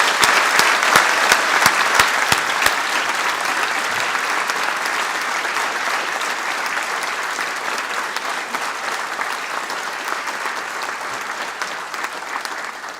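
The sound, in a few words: audience applause for graduates at ceremony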